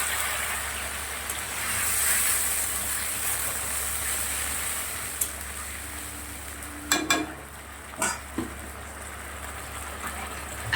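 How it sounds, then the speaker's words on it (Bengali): A spiced water paste poured into a hot pan of fried fish curry base, giving a soft steady sizzle with a few sharp spatters and clatters toward the end, fairly quiet throughout. "মশলা যেটা গুলে রেখেছিলাম জল দিয়ে, সেটা দিয়ে দিচ্ছি"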